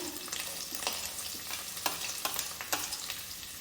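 Garlic and chili fry in a pan for a potato and tomato chutney, a constant close sizzle and crackle broken by a few sharper scraping stirs, with no talking.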